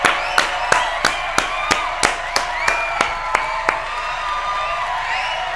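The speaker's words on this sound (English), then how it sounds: "I have to give you guys a round of applause" A single person claps slowly and steadily, about a dozen sharp hand claps at an even rhythm over a low background hum, close and clear.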